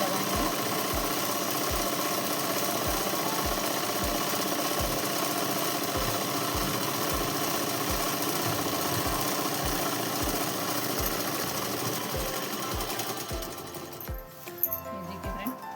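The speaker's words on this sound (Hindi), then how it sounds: "इसको हम सिलाई लगाएंगे।" A sewing machine stitches a simple shalwar in a steady, evenly spaced run of rapid mechanical thumps and whirring, close and continuous. It slows and stops near the end.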